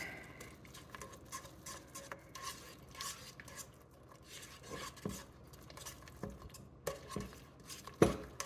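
A Japanese white stew mixture is stirred in a pot, giving a close, continuous scraping and clinking of a utensil against the pot with small wet pats and ticks.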